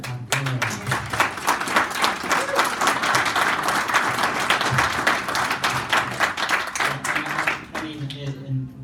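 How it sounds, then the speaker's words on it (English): An audience applauds after a presentation, a dense, steady burst of many hands clapping close by that fades near the end, with a voice talking over it. "a serious round of applause, not just for the presentation"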